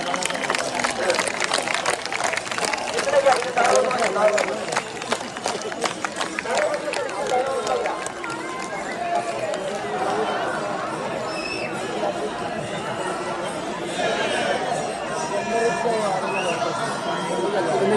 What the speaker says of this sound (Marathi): तुम्हाला गर्दी दाखवतो मी आता कॅमेरावरती करून